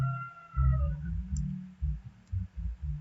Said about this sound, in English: I'll just click on that one and then click sign in.